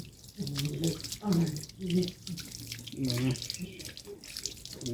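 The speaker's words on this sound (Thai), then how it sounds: "ล้างแชมพูออกให้สะอาดก่อน" Running tap water splashes and gurgles over a dog as shampoo is rinsed from its coat, a steady close wash broken by shifting splashes, with a person talking over it.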